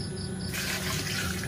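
Tap water pours and splashes into a container, being moved for mixing with molasses into homemade probiotics for poultry; a quiet trickle suddenly opens into a strong, steady gushing stream.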